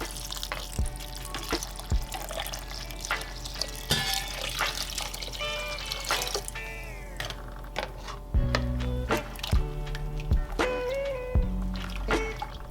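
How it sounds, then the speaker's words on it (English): Water poured into a pot of soaked red lentils, splashing and trickling with scattered drips and clinks across several seconds, close and moderately loud with no talk. "then I added water as well."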